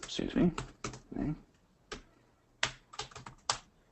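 Fingers type on a computer keyboard during a live Tableau mapping-data demonstration, a run of quick, close clicks in short bursts, with a voice talking between them.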